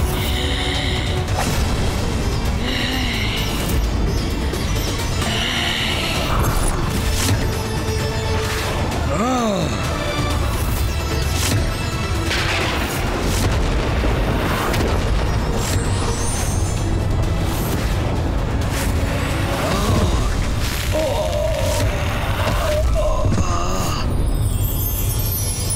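A dense, loud explosion sound effect from a Hindi mythological TV drama about Ganesha, a continuous roaring blast with crashing, rumbling texture that fills the whole stretch without pause.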